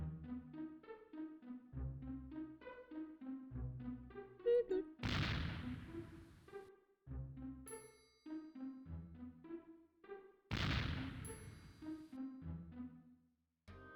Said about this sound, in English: Yeah, there's a lot of explosions.